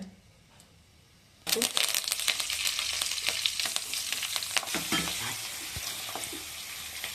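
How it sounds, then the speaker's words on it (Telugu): Mustard seeds and cumin hit hot oil in a pan for tempering, breaking into a loud, dense crackling sizzle after a quiet start, with scattered popping throughout; a voice speaks briefly. "మనం తాలింపు చేసుకుందాం. అదే మూకుల్లో నూనె, ఆవాలు,"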